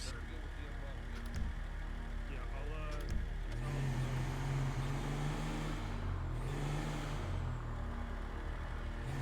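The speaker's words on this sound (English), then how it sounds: "This car sounds good, man." A video game car engine drones steadily, rising into a revving tone partway through, with voices talking over it.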